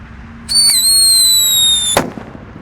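A dino egg firecracker next to loose sand lets out a loud, close, sustained whistling shriek with gliding tones, then ends in a sharp bang followed by brief crackle.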